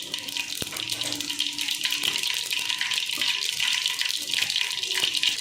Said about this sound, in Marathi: तेल गरम झालेलं आहे। आता त्याच्यामध्ये मी मोहरी टाकून घेणार आहे, जिरं टाकून घ्यायचं